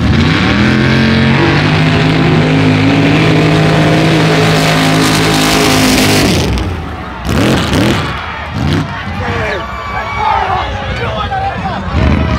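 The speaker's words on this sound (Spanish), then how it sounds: "estos motores están bien perros, la neta. Pero pues es lo que pasa con tanto caballaje en los motores" Powerful mud racing car engines at a mud track in Agua Prieta, loud sustained revving roar for several seconds, then dropping into rougher bursts and crowd noise with voices talking over it.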